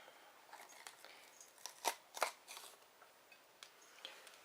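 Soft scraping and snipping clicks as the seeds and insides are scooped out of a bell pepper with its top cut off, a few sharper crunches among quiet rustling, close and faint, no talking.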